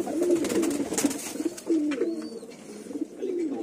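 A pure Kamaggar pigeon coos close by in soft, repeated throaty phrases, with faint background chatter and ambient noise around it.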